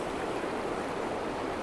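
Rapids of West Canada Creek rush in a steady, loud, broadband roar of flowing water, continuous and close throughout with no voices.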